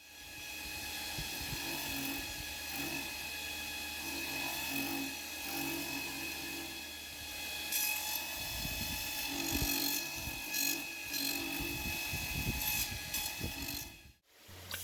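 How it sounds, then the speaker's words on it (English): A surface grinder works over a feather Damascus steel chef knife blade, a steady mechanical whir and hiss with bursts of grinding contact, heard close and alone. "So I'm going to put it on the surface grinder, and I'm going to get rid of all this scale and whatever."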